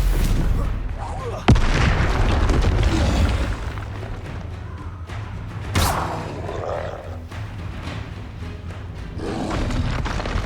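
A Confringo fire spell blasts in Hogwarts Legacy, a sudden loud boom followed by rumbling roar, with a second burst later amid continuous game noise and shouting voices.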